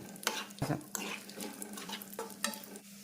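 Cashews and raisins frying in ghee for sweet pongal, a close steady sizzle broken by several sharp spoon-on-pan scrapes and knocks, with no talking.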